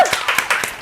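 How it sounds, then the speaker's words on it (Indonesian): A handful of sharp hand claps on a podcast set, about six distinct claps in a quick uneven rhythm, close and fairly crisp. "Tepuk tangan."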